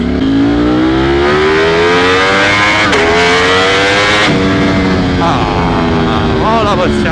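Ducati Streetfighter V4S motorcycle accelerating hard on a mountain pass, a loud close engine whose pitch climbs through the gears with sharp drops at each shift, then revs rising and falling, with a rider talking over it.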